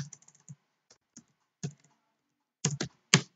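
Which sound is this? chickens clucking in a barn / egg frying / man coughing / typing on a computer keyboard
typing on a computer keyboard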